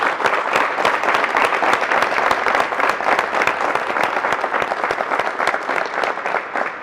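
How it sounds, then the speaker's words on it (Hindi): Audience applause for the team at a Tata Safari inauguration, steady dense clapping from a crowd, loud and continuous for the whole stretch. "तो एक बार टीम के लिए भी ताली होनी चाहिए।"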